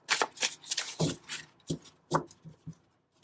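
A deck of tarot cards is shuffled close up in a series of quick riffling bursts and soft slaps, about a dozen irregular strokes that fade out near the end.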